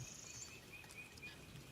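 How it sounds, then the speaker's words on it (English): Birds sing faintly in the distance with scattered thin chirps over a soft, constant outdoor hiss. "you hear the birds?"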